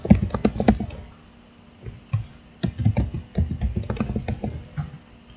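A password is typed on a computer keyboard while configuring a WPA2 Enterprise WLAN in Packet Tracer, giving close, irregular bursts of key clicks separated by brief pauses.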